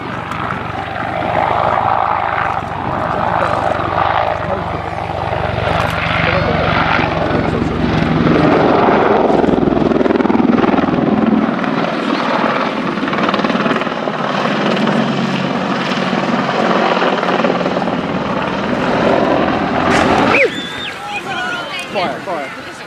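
A military aircraft flies air show display manoeuvres at the Royal International Air Tattoo, RAF Fairford, including a rapid climb; its loud engine roar swells and shifts continuously under a commentator's voice, then cuts sharply near the end.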